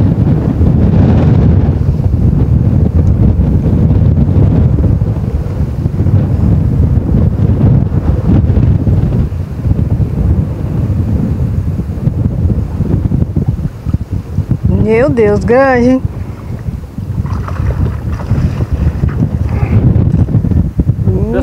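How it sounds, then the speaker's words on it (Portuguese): Strong wind buffets the microphone at a tilapia fishing spot by the water, a continuous loud low roar with gusts throughout; a person speaks briefly partway through. "desculpa a ventania"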